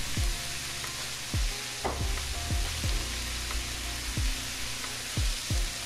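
A stir fry sizzles in a hot pan with sweet soy, oyster and soy sauce added, while a utensil scrapes and tosses the food in quick, rhythmic strokes over the steady frying hiss.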